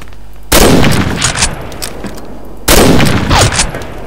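Gunfire in the shooter game Combat Arms on an oil rig map comes as two loud, close bursts of rapid automatic shots, each cutting in abruptly and rattling for about a second and a half before stopping.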